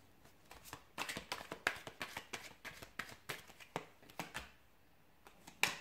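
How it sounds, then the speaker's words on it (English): Tarot cards are shuffled by hand in a quiet room, a soft run of papery riffles and taps with uneven rhythm and a sharper tap at the end. "I'll give the cards a shuffle and we'll take it from there."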